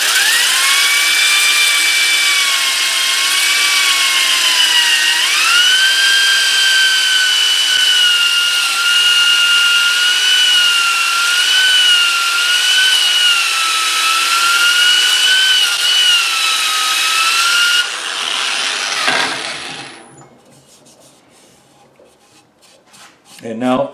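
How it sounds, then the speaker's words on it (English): A loud, steady whining drone of a drill, rotating opposite to a spinning square-edge wooden bowl on a lathe, cutting its bottom flat for most of the time, then stops abruptly, leaving quiet. "When the piece is rotating and the drill is rotating in the opposite direction"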